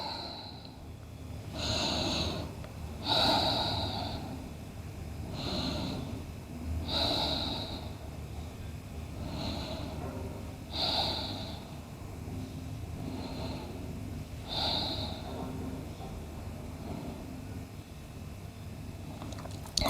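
Slow, audible breaths drawn in and let out through the nose during a hatha yoga forward bend, recurring in a calm rhythm of about every two seconds, close and soft.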